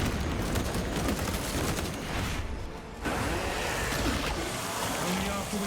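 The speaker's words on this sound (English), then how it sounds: "Using frag grenade." A frag grenade detonates in the Space Marine game, a broad booming blast within continuous dense battle noise, loud and roaring throughout with a short dip near the middle; a voice speaks over the din.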